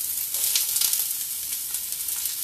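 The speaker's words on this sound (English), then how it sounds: "You want to hear that sizzle." A red onion sizzles in a searing hot pan, a steady bright hiss of frying with small crackles throughout and no one talking over it.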